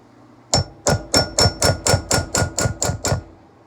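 Barrel tenons are tapped into slots cut in a smoothbore gun barrel with about eleven sharp, evenly spaced metallic taps in quick succession. The taps are close and clear, with nothing else heard.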